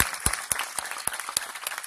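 An audience at a youth workshop applauds the young volunteers, giving a brief burst of scattered, uneven claps at moderate distance, with individual hand claps standing out from the crowd.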